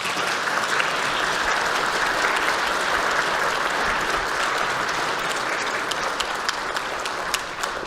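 Sustained applause fills a parliamentary chamber for the bereaved families of humidifier disinfectant victims, a dense, steady roar of many hands clapping at close range with no voices over it.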